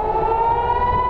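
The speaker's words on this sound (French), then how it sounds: "Les sirènes ont une nouvelle fois retenti ce mercredi à Tel Aviv." Civil defense air raid siren wailing over Tel Aviv during rocket fire, a loud, steady sustained tone.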